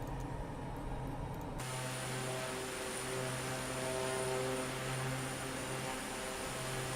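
A propeller aircraft engine in Microsoft Flight Simulator 2024 drones steadily and loudly, its pitch settling into an even hum as the prop RPM is brought down.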